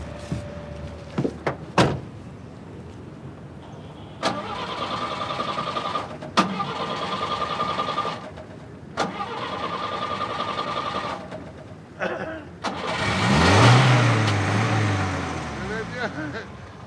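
A car door shuts with a solid thunk among several clunks and clicks, then an old car's engine cranks and catches, rising into a loud idle, in a French street scene with people talking.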